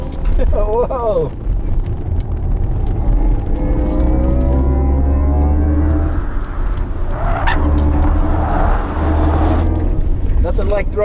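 A 2022 Mercedes-AMG EQS electric car of about 6,000 pounds is thrown hard around a go-kart track, its rising motor whine and tire noise loud and close under wind buffeting while a person talks throughout.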